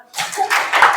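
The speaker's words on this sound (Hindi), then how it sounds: "जोरदार तालियां।" Children clap their hands in a classroom, a short burst of several quick claps close by, lasting about a second.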